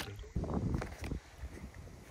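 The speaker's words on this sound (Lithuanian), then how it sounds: "Dabar dar išplauksiu ten biškį giliau." A small rowboat is rowed out onto a lake, with a few dull oar strokes and water splashes close by, against light wind noise outdoors.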